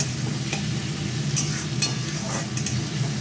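Sliced onions sizzle steadily in a hot pan, with a few sharp scrapes of a spatula stirring them in a short, continuous burst.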